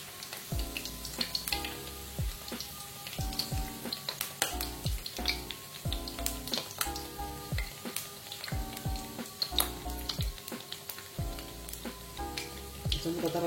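Dendeng beef sizzling and crackling in hot oil, a steady close frying hiss with scattered pops and occasional stirring scrapes, with faint background sounds.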